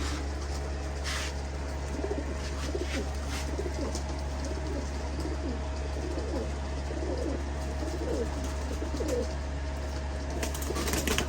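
Several pigeons coo in repeated throaty bursts across the whole stretch, close and moderately loud over a constant low hum, with occasional wing flaps in a loft where the birds are being vaccinated.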